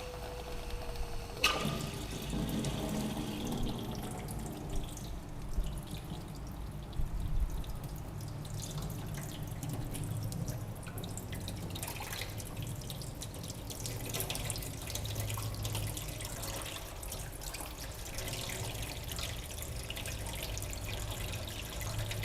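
Tap water running steadily into a tank fitted with an automatic float valve, a continuous close splashing and trickling flow that stays even throughout, with no voices.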